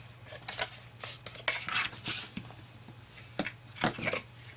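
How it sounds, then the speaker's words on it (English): A bone folder burnishes a crisp fold into paper for a gift card holder, a series of close, scratchy rubbing strokes in short irregular bursts, with brief pauses between passes. "take our bone folder and burnish so we get a nice crisp"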